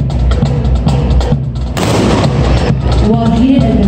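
Cadets fire rifles during a drill exhibition, loud booming reports and crackling bursts that swell into a dense volley midway through, heard at fairly close range.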